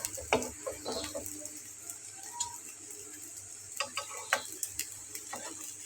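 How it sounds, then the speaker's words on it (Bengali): A Bengali breakfast snack fries in a pan after being flipped, giving a steady, soft sizzling hiss with scattered light ticks and pops. "এই যে এখন ভাজা হচ্ছে।"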